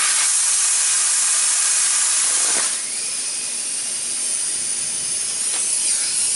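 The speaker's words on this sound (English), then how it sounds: "I'm going to blast out the media from the hose" Compressed air blasts the leftover media out of a wet blasting hopper hose in a loud, continuous rushing hiss, with brief sputters as the flow shifts.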